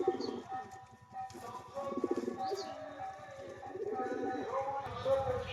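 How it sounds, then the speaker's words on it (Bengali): A pair of Shakdoma pigeons coo in soft, repeated throaty bursts close by, with faint background chatter between calls. "এক জোড়া পায়রা"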